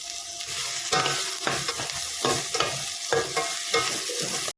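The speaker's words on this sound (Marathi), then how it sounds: "टोमॅटो घातल्यावरती चवीनुसार मीठ घालायचं आणि चांगलं परतून घ्यायचं" Onion and tomato with salt sautéing in a pan for a bhendi bhaji, steady close-up frying sizzle broken by repeated rhythmic scraping strokes of a spatula, with no talk.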